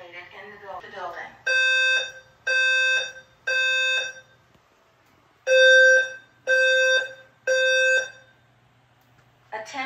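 A Notifier NFS2-3030 fire alarm system sounds six loud, evenly timed horn blasts in two groups of three, with a recorded voice speaking briefly before and after.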